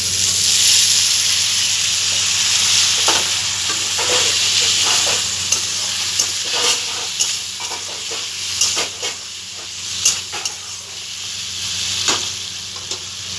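Water poured into a pan of potato and omelette curry sets off a loud, steady sizzle with hissing steam, broken by repeated scrapes and knocks of stirring.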